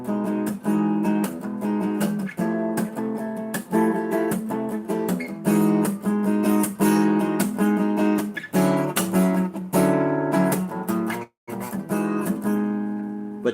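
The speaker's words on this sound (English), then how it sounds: "But that's a major ninth chord." Sustained harmonic chords ring out with strummed or struck attacks, played in a steady rhythmic pattern, loud and close with no talking and a brief silent break near the end.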